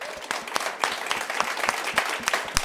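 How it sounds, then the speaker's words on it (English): Scattered audience applause at an evening cultural candidate forum for the King County Council, a small crowd's claps sounding sparse and fairly quiet, with distinct individual claps throughout. "Let's give them a round of applause, and thank you"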